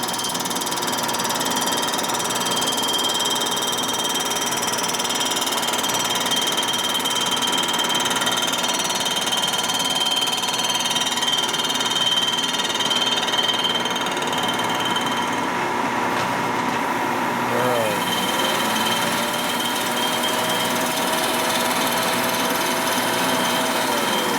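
A milling machine cuts across the head gasket surface of a 2017 Milwaukee-Eight cylinder head, a steady loud broadband machining whine running unbroken throughout with a brief pitch sweep near the end.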